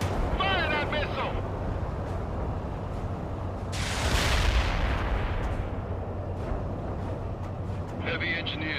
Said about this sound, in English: Fire that missile.